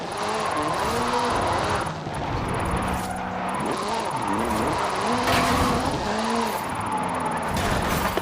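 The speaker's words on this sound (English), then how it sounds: "This is Mr. Kenneth Block's Hooligan Gymkhana 10 Ford Focus RS RX" Hoonigan Gymkhana 10 Ford Focus RS RX rally car with a 2-litre turbocharged front-mounted engine and all-wheel drive in Forza Horizon 5, its engine repeatedly revving and shifting at close range while a person talks over it.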